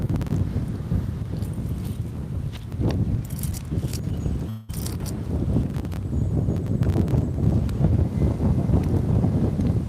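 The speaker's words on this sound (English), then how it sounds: "It is very windy today" Strong wind roars and buffets the microphone continuously, with gusty rumbling and a brief dropout midway; no voices.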